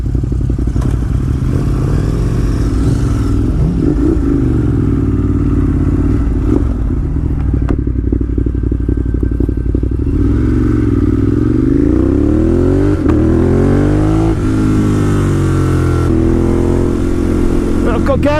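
A motorcycle on a group trip through Spain accelerates and shifts up and down, its engine note sweeping through several gears, heard close and loud from the rider's position under wind noise, with someone talking.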